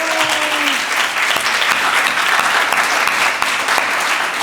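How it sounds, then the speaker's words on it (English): A graduation audience bursts into sustained, dense applause, loud and close, a steady wash of many hands clapping throughout with no let-up. "a round of applause and a standing ovation for Tzipi"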